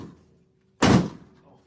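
A 9 lb claw tool is swung hard into an outward-opening steel door to gap it, landing as one loud, close, ringing thud. A brief voice is heard just before the strike.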